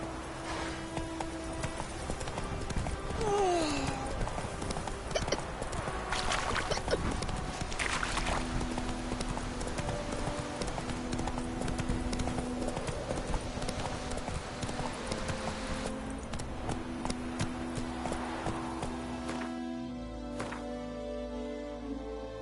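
In The Witcher 3: Wild Hunt, a horse gallops steadily with continuous close hoofbeats over ambient game sound, keeping up a constant rhythm throughout.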